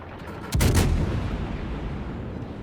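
A French tier-6 De Grasse premium cruiser firing its guns in World of Warships: one sharp, heavy salvo blast that booms and then rolls off into a long, fading low rumble, with no speech.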